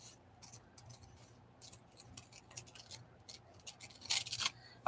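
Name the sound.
scissors cutting paper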